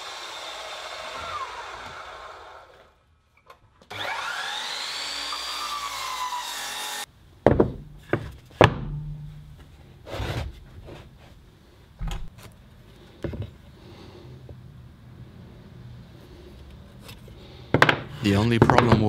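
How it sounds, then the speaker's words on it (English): A circle cutter bores a hole into 30mm plywood in a workshop, giving rough rasping cutting bursts that rise and fall, followed by scattered knocks, clunks and short grinding spurts. "30mm are too thick to be penetrated by a circle cutter in one pass, so you have to cut up to the half of it"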